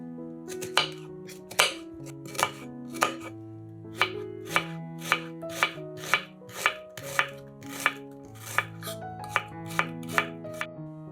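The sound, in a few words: knife dicing an onion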